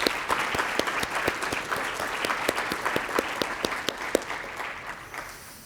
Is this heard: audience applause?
yes